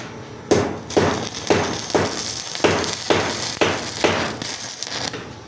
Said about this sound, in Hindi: कंटिन्यूस वेल्डिंग करी जा रही है